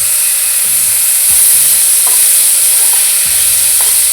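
Onions sizzle and fry in a pan for prawn curry, a steady loud hiss with a few scrapes of a spoon stirring against the pan, no voices.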